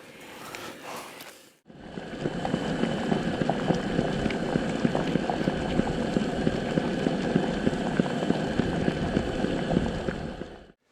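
Water boiling in a cooking pot with yabbies dropped in, a steady loud broadband bubbling and hissing that starts abruptly after a brief quieter moment and continues unbroken to the end.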